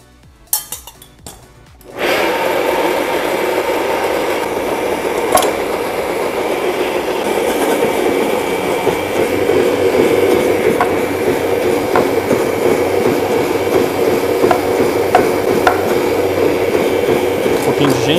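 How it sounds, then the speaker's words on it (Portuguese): After a brief moment of small clatter, a blender kicks on, puréeing cooked carrots with butter and ginger, and runs loud and continuous, its motor whirring steadily without pause. "Nós vamos bater ela no liquidificador com um pouquinho de manteiga e gengibre."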